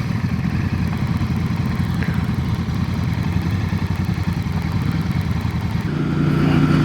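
A Royal Enfield motorcycle engine runs steadily on a ride through the Limousin countryside, a continuous low, throbbing drone with a slight rise in level near the end, with no talking over it.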